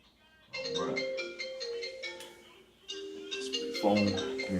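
A phone ringtone plays indoors during a class, a melodic electronic tune in two bursts with a short pause between, moderately loud and clear with no one talking over it.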